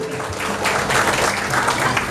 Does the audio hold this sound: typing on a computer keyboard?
no